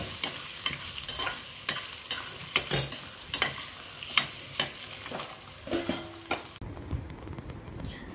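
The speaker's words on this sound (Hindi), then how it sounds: "मेरे मटर मैं पनीर फ्राई कर रही हूँ।" Paneer and peas fry in a pan, with a steady sizzle under repeated sharp scraping and stirring strokes from a spoon against the pan, heard up close and without talk.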